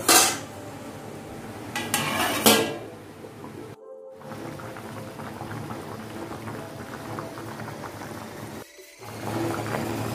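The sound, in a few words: putting the lid on a pot of chicken curry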